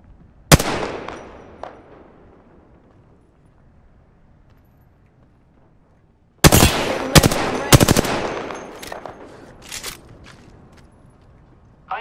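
Gunfire in the Apex Legends video game: a single sharp shot, then a quiet stretch before several loud bursts of rapid fire with scattered follow-up shots, close and forceful.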